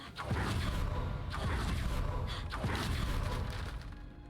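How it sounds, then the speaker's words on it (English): A flashbang blast cast as a spell in Hogwarts Legacy, a series of loud booming bursts with whooshing tails, roughly three impacts about a second apart, close and full. "Flashbang!"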